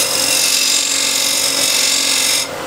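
A small square scraper cuts a walnut bowl turning on a wood lathe, giving a steady, close, bright scraping hiss that holds evenly and drops slightly in level just before the end.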